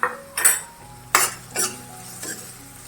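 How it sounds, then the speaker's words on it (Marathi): Chopped capsicum is sautéed in a pan for cabbage manchurian, heard as a spatula scraping and clinking against the metal pan in four or five distinct strokes over a faint sizzle. "चांगली परतून घ्यायची शिमला मिरची"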